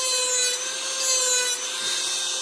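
A Dremel rotary tool grinds a bevel into a fishing lure body, giving a steady high-pitched whine with a continuous abrasive rasp. It sounds close and runs unbroken.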